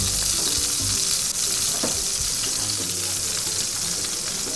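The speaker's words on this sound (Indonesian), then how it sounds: "Pertama, kita panaskan 2 sendok margarin." Margarine melting in a hot pan while cooking spicy sweet crab, giving a steady, close, hissing sizzle that holds evenly throughout with occasional faint scraping.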